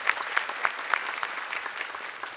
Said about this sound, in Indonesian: Boleh tepuk tangan sekali lagi mohon untuk Humaira dan juga Rika.